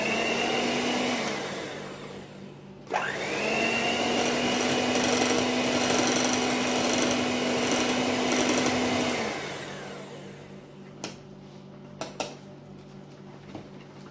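Cream being mixed with chocolate by an electric mixer, its loud, steady motor whine dropping and rising in pitch as it stops and restarts, then giving way to quieter clinks and taps.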